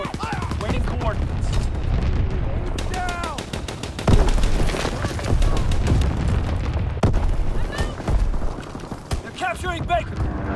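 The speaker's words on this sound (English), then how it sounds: "Anti-aircraft salvo commenced." Anti-aircraft salvo and dense gunfire in Call of Duty: WWII on the Shipment 1944 map in a domination match: rapid machine-gun bursts and sharp single shots with booming blasts, loud and continuous, while voices talk over the fighting.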